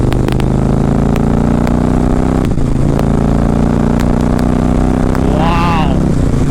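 An Indian motorcycle in sport mode accelerates hard in fourth gear from about 80 km/h, a loud close engine drone with rushing wind noise and a brief rise in pitch near the end.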